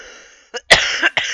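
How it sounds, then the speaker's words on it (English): A person gives a short, loud, close cough, then a second harsher burst and a brief throat-clearing rasp, all within about a second. "I'll cough, honestly."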